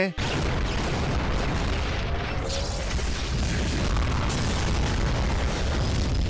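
A deep, rumbling animated explosion fills the clip, a sustained heavy boom with crackling debris that never quite fades.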